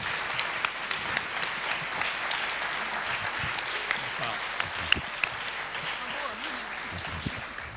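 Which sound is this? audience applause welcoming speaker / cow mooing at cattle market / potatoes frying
audience applause welcoming speaker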